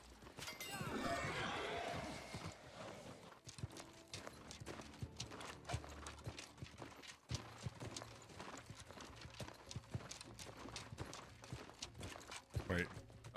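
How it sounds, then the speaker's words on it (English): Mount hooves clip-clopping in the online fantasy game New World, a steady galloping patter running throughout amid game effects, with an occasional horse whinny and a person talking over it. "This is where the horse comes in real handy."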